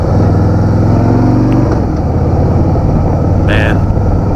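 A 2016 Harley-Davidson Softail Deluxe with a 103 engine runs steadily, a loud, continuous low rumble heard up close outdoors, with a brief higher-pitched sound partway through.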